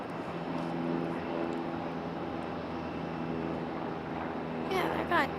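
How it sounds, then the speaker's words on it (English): A NetJets business jet coming in to land at Raleigh-Durham airport, a steady distant engine roar with a faint mechanical hum and brief wind-like bursts near the end, sounding from an outdoor spotting position. "Netjet about to land."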